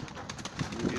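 Pigeons cooing at close range, with a couple of soft low coos over a brief, quiet stretch.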